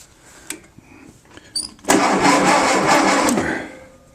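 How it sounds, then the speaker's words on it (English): A 1940 Case V tractor's starter and engine: a few short clicks and knocks, then a loud, steady rumbling burst that runs about a second and a half before dropping off. No one speaks. "And if you put the thing in gear, hit the starter."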